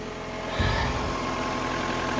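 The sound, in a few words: Mazda car engine running after starting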